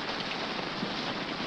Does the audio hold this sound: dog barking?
no